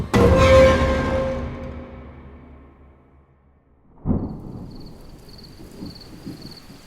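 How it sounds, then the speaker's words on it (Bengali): A heavy evening downpour with thunder in hilly country: a loud thunderclap rolls and slowly fades, then a second sharp crack breaks in, followed by steady rain hiss under a faint high ringing tone. "বাইরে সন্ধ্যার অন্ধকার নামার সাথে সাথেই মুষলধারে বৃষ্টি শুরু হয়েছে।"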